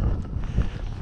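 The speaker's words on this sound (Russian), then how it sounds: "ветер" Wind gusts on a snowy, thawing day in Epsom, England, a short burst of loud low rumble buffeting close against the microphone.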